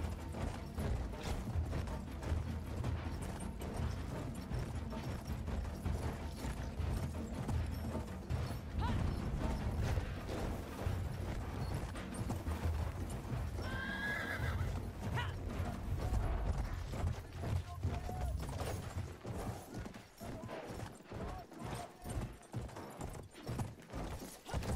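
Horse hooves clip-clop in Battlefield 1, set in a dense, noisy wash of game sound that stays at a low, steady level throughout, with the rhythmic beats growing more distinct toward the end.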